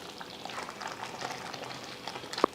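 A pot of curry bubbles gently at a low simmer, soft irregular blips and pops close by, with a single sharper tap near the end.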